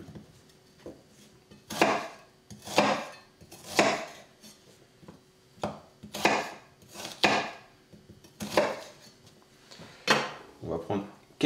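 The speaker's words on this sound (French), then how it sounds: "On va prendre l'oignon, on va le débiter en gros morceaux" An onion is chopped into large chunks on a cutting board for turkey and parmesan croquettes, giving a dozen or so sharp, close knife knocks in an uneven rhythm, clear and prominent in a quiet kitchen.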